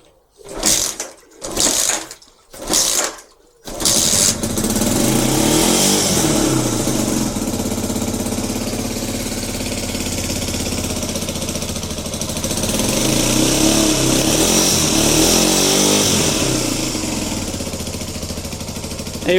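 An old motorcycle that sat three years in a garden, started with choke: a few short cranking bursts, then the engine catches and idles loud and steady, with a slight rise in revs partway through.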